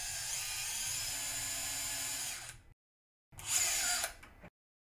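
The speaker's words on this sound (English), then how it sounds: "The locking screw is inserted using a power tool." A surgical power tool drives a locking screw into the femur during a closed-wedge osteotomy, whirring at high speed in two bursts separated by a silent pause.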